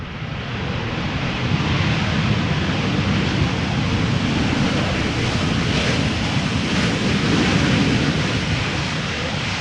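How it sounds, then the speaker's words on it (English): Ryanair jet airliner arriving from Dublin making a high speed pass at Amsterdam Schiphol, a loud sustained broadband roar that holds steady throughout, blended with wind buffeting on the microphone. "Ryanair arriving from Dublin. High speed pass."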